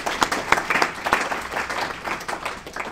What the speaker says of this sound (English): So can we just give the Code for America people and the Microsoft people a big round of applause?